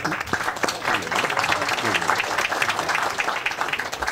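An audience at a conference breaks into applause, a dense wash of clapping from many hands that keeps up for several seconds with voices mixed in.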